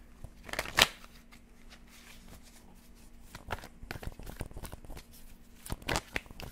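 Tarot cards being shuffled by hand, soft papery riffles and taps in irregular bursts, close and fairly quiet, with no talking.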